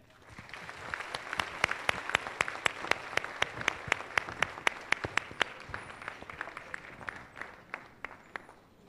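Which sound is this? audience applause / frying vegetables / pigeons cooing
audience applause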